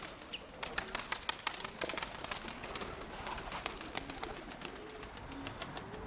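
Pigeons around a loft, with soft cooing and repeated short wing flaps and scuffles over a steady low background murmur; the sounds are moderately close and continuous.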